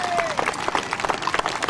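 Parade crowd applauding, a short burst of scattered clapping under a bit of voice, lasting under two seconds.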